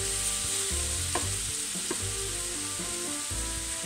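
Leeks and carrots frying in a pan, a continuous close sizzle with occasional soft scrapes and clinks as the vegetables are spread across the bottom, no voices.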